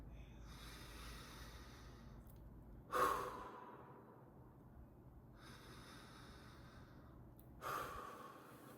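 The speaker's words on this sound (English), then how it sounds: "let's go ahead and breathe" Two deep breaths, each a soft rushing inhale swelling to a fuller exhale, separated by a few seconds of quiet, close and moderately loud with no talking.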